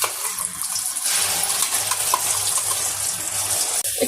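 Water is poured into a pan of fried ground spice paste of poppy seed, cashew, green chilli and yogurt, giving a steady loud hiss and sizzle with splashing that lasts throughout, with no voices.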